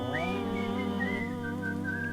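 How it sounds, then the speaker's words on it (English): A whistling character in a music-making video game whistles a short melodic line over a sustained tonal backing, clear and steady, with no talk. "I kind of like this whistling guy."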